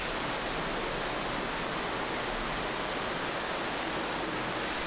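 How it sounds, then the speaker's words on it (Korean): A clear waterfall pours down craggy rock cliffs on a mountain, making a steady, full-bodied rushing hiss that stays constant and fairly close throughout, with no voices. "기기묘묘한 암벽들을 헤집고 흘러내리는 청명한 폭포는 오가는 이의 발길을 붙잡기에 부족함이 없습니다"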